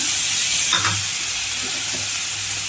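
Soaked chana dal sizzles and fries in a pan with onion and tomato, giving a steady hiss with a few soft stirring scrapes and no voices.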